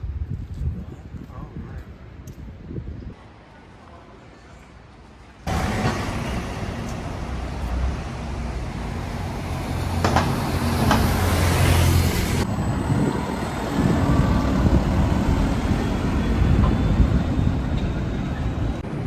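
Busy London street with buses, including a passing number 11, and general road traffic: a steady roar of engines and tyres, quieter at first, then a loud broadband rumble that builds and persists as vehicles pass close by.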